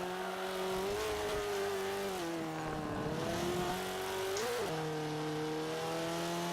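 In a racing game a tuned car engine holds a strong, buzzing tone that rises and falls with each gear shift, one dip and jump near the middle, loud and steady with no talking.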